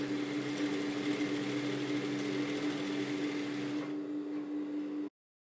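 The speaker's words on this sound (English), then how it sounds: "Sew along the seam line until finished." A sewing machine runs steadily, stitching a French seam with a 1 cm allowance, a close, continuous mechanical whir that holds for about four seconds, softens briefly near the end, then stops abruptly.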